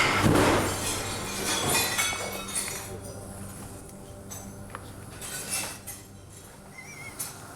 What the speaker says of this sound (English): The frozen chicken hasn't just cracked a couple of panes. It's blasted a hole right through the glass.